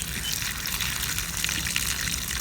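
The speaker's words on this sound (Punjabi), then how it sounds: "ਜਿਹੜਾ ਥੋੜਾ ਜਿਹਾ ਪਾਣੀ ਪਾਇਆ ਸੀ ਅਸਾਂ ਚੌਲਾਂ 'ਚ ਅਸਾਂ ਬਾਹਰ ਕੱਢਤਾ" Water drained off soaked rice gushes out in a steady, hissing stream, continuous and fairly close, with no voices.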